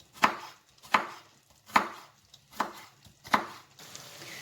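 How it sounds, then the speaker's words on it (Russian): A knife chops carrots into strips on a cutting board, five crisp sharp strokes about one per second, close and clear with quiet between them. "Морковь нарезаем соломкой."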